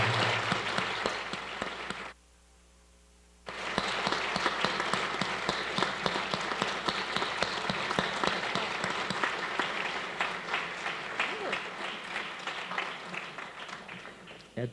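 An audience applauds a panel at a talk event, a loud sustained wash of clapping that briefly cuts out, then resumes and gradually thins toward the end.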